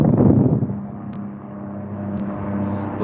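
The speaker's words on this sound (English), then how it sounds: "Come on, helicopter. I can hear you coming through." A helicopter flies overhead above a valley, its low droning rotor hum swelling loud at first, then easing into a steady distant rumble.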